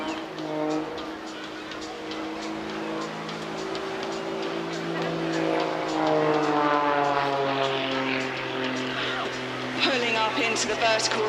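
Rich Goodwin's Jet Pitts aerobatic plane, powered by a 6-cylinder, 8.5-litre Lycoming engine of over 300 horsepower, flying a display at Clacton Airshow 2025. The engine drones loud and steady, its pitch shifting and climbing through the manoeuvres.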